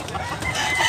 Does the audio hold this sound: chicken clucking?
yes